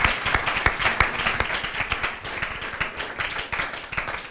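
Audience applause for the panelists at a public talk, a moderate burst of many hands clapping with distinct individual claps audible, steady throughout.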